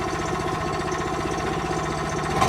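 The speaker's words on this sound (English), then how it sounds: "the engine is actually running at the moment" An AU9000 engine runs steadily nearby at idle, a continuous low rumbling throb with a faint mechanical rattle and no change in pace.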